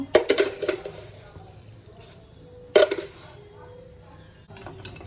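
A metal spoon clinks and scrapes around inside a pan in a few quick bursts, close by, stirring sugar into a coconut dessert mixture, with quieter stirring in between.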